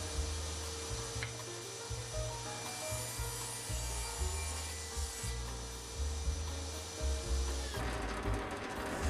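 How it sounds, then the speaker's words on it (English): A small saw cuts an angle in wood for a birdhouse, giving a steady, rhythmic rasping of back-and-forth strokes at close range, with a brief shift in texture near the end. "Cutting the angle on the small saw."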